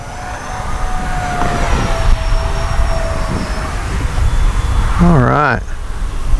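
An E-flite EC-1500 twin-engine RC airplane throttles up in flight with a steady, droning engine whine under continuous wind noise, while someone speaks briefly near the end.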